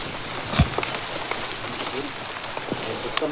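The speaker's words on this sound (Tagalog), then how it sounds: "Kaya maraming ulan, no?" Heavy rain falling steadily outdoors, a dense broadband hiss with scattered drop impacts, while people talk in the background.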